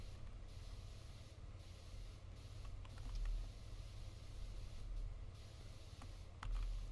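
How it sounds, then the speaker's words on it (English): A pressure washer in PowerWash Simulator sprays in a continuous low hiss with a soft rushing rumble, fairly quiet, with faint clicks and small bursts on top. "Power washing, power washing."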